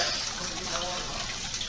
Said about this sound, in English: get my water bottle and fill it up?